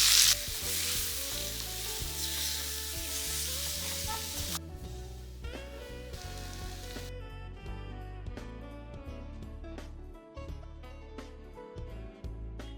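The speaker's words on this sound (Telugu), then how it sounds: "పచ్చి శనగపప్పు, పచ్చిమిరపకాయలు, ఇందులో వేయాలి." Soaked chana dal and green chillies frying in a pan for a brinjal and chana dal curry give a loud, steady sizzle with bursts of crackling and the clatter of stirring, and a voice is briefly audible.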